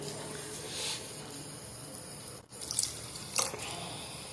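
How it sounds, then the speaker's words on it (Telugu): Milk pours steadily into a pan of carrots being cooked for carrot halwa, a soft continuous liquid trickle with a couple of brief splashy drips near the end, close and quiet with no talking. "ఈ విధంగా పాలు పోసుకొని ఇంకొంచెం పాలు పడతాయండి."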